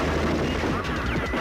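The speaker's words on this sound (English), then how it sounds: "They were firing their guns into the air" Guns fire into the air in a Street Hawk TV episode, a loud, dense burst of shots blended with voices and other soundtrack noise.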